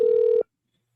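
A single steady telephone tone sounds loud and close for under half a second, then cuts off abruptly into silence.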